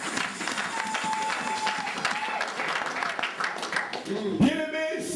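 Congregation applauding during a church service, steady sustained clapping from many hands filling the room, with a few voices and a brief tonal sound near the end.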